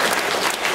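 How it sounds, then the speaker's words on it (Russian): Loud applause from a theatre audience, a dense burst of many hands clapping close up and filling the moment with no gaps. "Громче, громче аплодисменты"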